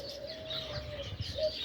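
Birds calling at seven in the morning, with a sustained tonal note and a second shorter call over steady low background noise, fairly faint and without speech.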